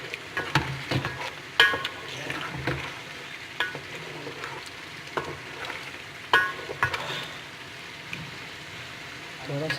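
Tomato gosht, meat with whole ginger cut into long strips, is sautéed in a pan with a soft sizzle. A spoon stirs and scrapes it in repeated sharp bursts.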